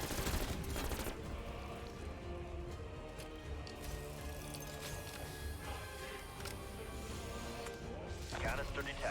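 Rapid gunfire from a gun in Call of Duty Cold War Zombies, a dense continuous stream of shots under game voices and a steady hum, with brief pauses and a sharper burst near the end.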